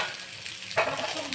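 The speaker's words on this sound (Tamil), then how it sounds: "நல்லா வதக்கணும்." Food sautéing in a pan, a continuous hiss of frying with a brief louder stir or scrape partway through.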